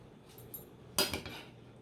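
Cooked fava beans tipped into a pan, landing with a brief clattering burst and a few metallic clinks of a utensil against the pan, faint and close, with no talking.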